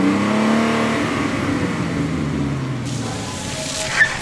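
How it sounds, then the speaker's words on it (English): A V12-engined car rumbles and revs on a Houston street, a steady low drone that swells slightly and holds, fairly loud and close, with no voices. "Then I heard the sound of a rumbling V12 engine."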